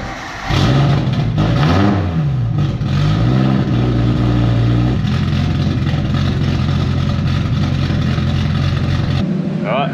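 Nissan Silvia S14 with an RB25DET engine revs and drives off axle stands, a loud, steady engine note rising and falling in pitch, close by, continuing through the clip before cutting off near the end.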